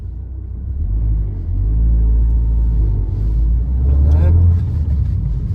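An Abarth 500 small car engine rumbles steadily and loudly at close range, swelling slightly midway and again near the end, with a brief spoken word over it.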